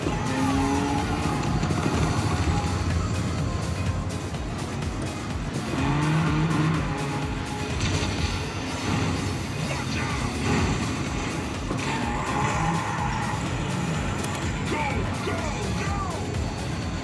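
Race cars in the arcade racing game Cruis'n Blast, with revving engines, squealing tires and skids in a dense, continuous game soundtrack, with a voice talking over it.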